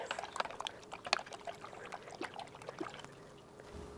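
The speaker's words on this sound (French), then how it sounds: "Je vais brasser." Homemade L. reuteri yogurt milk being stirred in a container, soft wet swishes and light clinks in an irregular rhythm, fairly quiet and close, fading toward the end.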